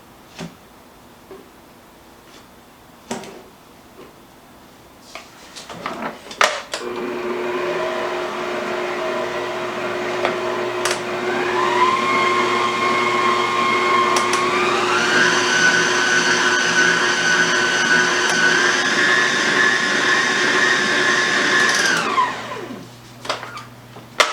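Electric mixer beating spritz cookie dough as flour is added, a steady loud motor whir that rises in pitch partway through and runs for about fifteen seconds before stopping, with no talking.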